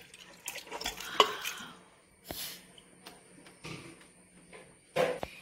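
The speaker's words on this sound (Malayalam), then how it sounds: "ഇതിനി നമുക്ക് നന്നായിട്ട് ഇളക്കി യോജിപ്പിക്കാം." Cooked meat stirred into tapioca biryani in a pot, a few sparse scraping and clinking strokes of a spoon against the vessel, fairly quiet with gaps between them.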